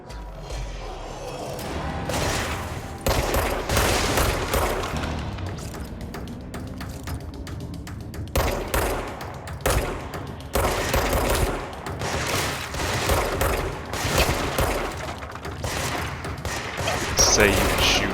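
Dense bursts of gunfire aimed at the player in the game Control, rapid repeated shots and impacts in clustered volleys throughout, loud and close with a voice talking over parts of it.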